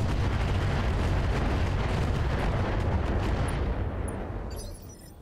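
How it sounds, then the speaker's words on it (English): Heavy rumbling weapons fire from battling mechs in modded Battletech, a dense continuous barrage of blasts and booms that stays loud before tapering off at the end, with no talking. "Firing all weapons."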